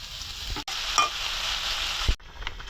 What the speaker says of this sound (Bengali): সাথে আলু দিয়ে উস্তা ভাজি করতেছি।